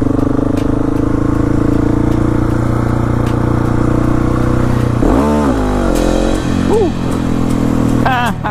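A 701 motorcycle revving loud and close, its engine droning steadily and then rising in pitch through several quick gear changes, with wind noise throughout.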